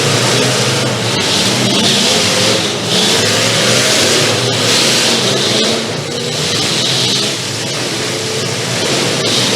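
Race cars roar steadily around the Stoneboro Fair dirt track, loud and continuous with engines revving and surging as the pack passes.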